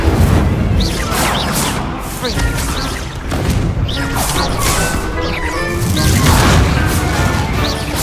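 Repeated Incendio fire spells cast in Hogwarts Legacy during a fight, loud crashing bursts and whooshes recurring every second or so over a continuous busy combat din, with a voice talking over it.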